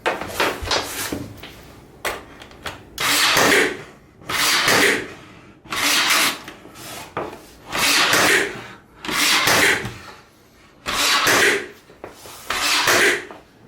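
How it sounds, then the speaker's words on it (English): A Ryobi Airstrike cordless finish nailer fires nails one at a time, each trigger pull giving a loud, close burst, about eight in a steady, spaced rhythm with no talking. "So that's the Ryobi Airstrike Finish Nailer."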